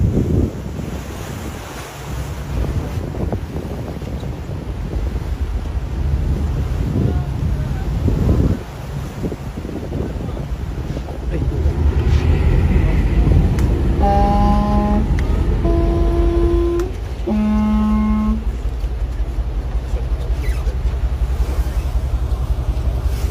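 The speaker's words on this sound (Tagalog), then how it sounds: "Water cannon." A Chinese coast guard water cannon blasts a Philippine supply boat out at sea, making a continuous roaring spray mixed with wind buffeting the microphone. A few steady horn-like tones sound midway.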